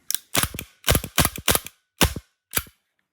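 A Tokyo Marui Sig Sauer P226 airsoft pistol converted to CO2 fires seven sharp, loud, close shots with slight irregular spacing over about three seconds, each crack ending in a brief mechanical clack, followed by silence.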